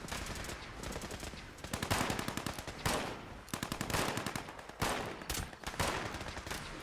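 Turret base gunfire in Fallout 76 crackles in rapid automatic bursts, loud and repeated with short gaps between volleys.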